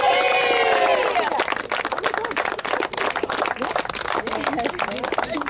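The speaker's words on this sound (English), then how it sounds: "Huge awards or huge applause for each one of these names when they're called" Spectators at a women's sports trophy ceremony break into applause and cheering after an announcer's voice, a sustained, dense burst of clapping from a sizeable crowd.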